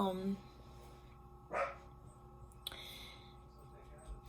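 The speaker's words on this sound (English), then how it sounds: "sorry, dogs are barking." A dog barks a couple of times at a distance, with faint indoor background hum and a voice nearby.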